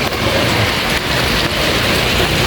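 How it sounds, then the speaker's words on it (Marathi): Heavy rain pours steadily in Pune, a dense continuous hiss of drops striking surfaces, loud and close with no pauses or voices. "नुसतं पाऊस चालू आहे."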